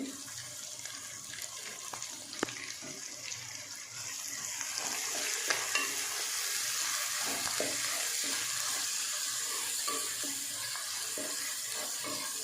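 Onions frying in a pan with salt and curry leaves and being stirred, a soft steady sizzle with faint scraping and watery crackle, quiet and continuous, growing slightly fuller partway through, with no voices.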